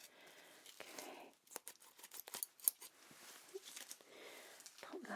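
Scissors snip quietly during a close-up ASMR pre-op medical exam, a scattered series of faint, crisp cuts and small rustles over near silence.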